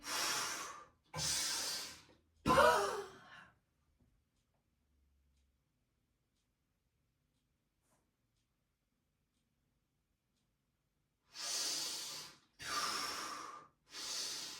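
During a leg pull-back floor exercise, a person breathes out in three sharp, close exhalations, then falls quiet for several seconds before another set of three forceful breaths.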